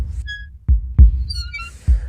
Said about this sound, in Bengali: হৃৎপিণ্ডের ধুকপুকানি শোনা যাচ্ছে।